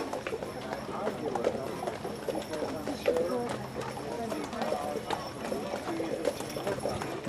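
Horse hooves clip-clop at a steady trot a short distance away, with murmuring voices and outdoor ambience around them.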